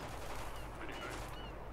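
Rapid gunfire in the video game Spec Ops: The Line, a dense, loud, continuous burst of shots filling the whole moment.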